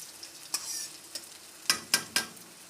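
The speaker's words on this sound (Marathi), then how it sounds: "कांद्याला पण तेलामध्ये असं फ्राय करून घ्यायचं" Onion frying in oil sputters with a quiet sizzle, broken by several sharp stirring knocks and scrapes of a spoon in the pan, close by and fairly faint, with no talking.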